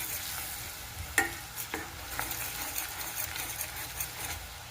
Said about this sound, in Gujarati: હવે તેમાં 1 ચમચી ચણાનો લોટ નાખ્યો એટલે તે બધો અંદર શેકાઈ જાય, સારી રીતે ભરી જાય અને શેકાઈ જાય તેલમાં.